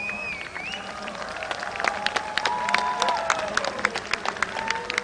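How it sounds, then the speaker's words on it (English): A festival crowd at the Hornbill Festival 2022 arena claps in a sustained, moderately loud wash, with whistling tones gliding through it and a brief swell in the middle. "A big round of applause"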